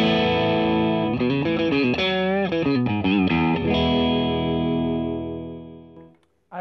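An electric guitar played through a Fender Pugilist distortion pedal switched on rings out with thick, crunchy chords and a short riff, then sustains and fades out over several seconds, loud and close.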